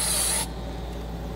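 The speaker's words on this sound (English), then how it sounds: "just come back and spray whole trail" A short hiss of an aerosol spray can bursts out briefly, then stops, leaving quiet background hum.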